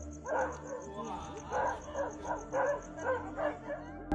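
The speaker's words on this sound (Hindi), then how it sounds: "साथ ही वो कुत्ता भी उस फिगर पर भौंक रहा था" A dog barks repeatedly in a rhythmic series of sharp yaps and bow-wows at a scary night scene, with a steady hum beneath.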